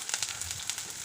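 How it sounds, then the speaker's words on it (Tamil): Onions and dried red chillies sautéing in hot oil for an egg gravy, giving a steady, close, faint sizzle and hiss with light crackling throughout. "வெங்காயம், காஞ்ச மிளகாயும் போட்டாச்சு. அது நல்லா வதங்கட்டும்."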